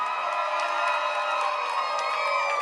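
Wedding guests at the Easton's Beach Rotunda in Newport, Rhode Island cheer, whoop and shout together in a loud, steady wall of crowd noise that fills the whole moment.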